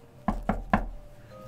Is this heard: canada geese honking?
no